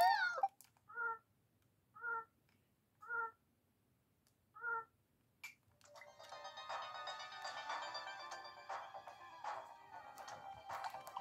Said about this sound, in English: that was supposed to be a meowing sound effect, but it was so deep that it literally didn't sound like it at all